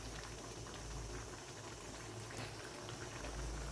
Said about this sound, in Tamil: இந்த அளவுக்கு நல்லா கொதி பபிள்ஸ் வந்தால் போதுங்க நமக்கு